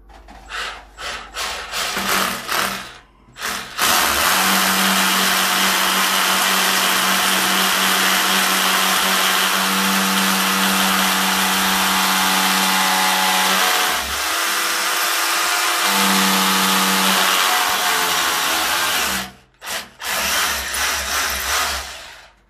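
A power drill boring the first hole for a DIY recycled-material bathroom spotlight fixture, a loud steady whine running about fifteen seconds with a short pause midway, bracketed by brief handling noises.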